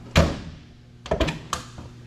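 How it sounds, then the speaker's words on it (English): The basement storage door of a 2009 Monaco Executive motorhome swings open with a solid thunk, then shuts with a couple of clunks and a latch click, close by and fairly quiet. "You mind opening and closing that basement door?"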